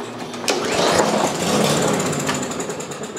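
A Troy Bilt lawn mower engine fires briefly as it is cranked, giving a short burst of sputtering combustion over the rattle of the starter, close and fairly loud.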